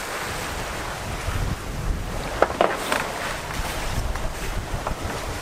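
Wind gusting over a reefed sailboat in roughly 15-knot breeze, a steady broad rush with water wash and a few brief knocks, fairly loud and close with no talking.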